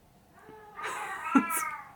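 An indoor cat lets out a single drawn-out, harsh, not very melodic meow, close and fairly clear over a quiet room.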